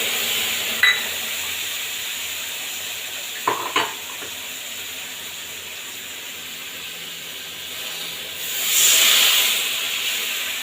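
Spice paste mixed in water goes into hot oil in a Bengali home kitchen, producing a steady close hiss with a couple of utensil clinks and a louder sizzling surge near the end.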